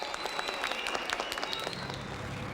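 An audience applauds at a concert where a singer performs, a faint, distant patter of many hands clapping at a steady rate, thinning out toward the end.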